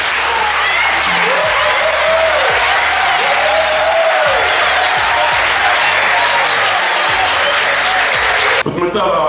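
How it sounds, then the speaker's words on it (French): Sustained, loud applause and cheering from an audience at a bench donation event at a school annex, continuous for several seconds before cutting off abruptly, with voices shouting among the clapping. "Est-ce qu'on peut acclamer?"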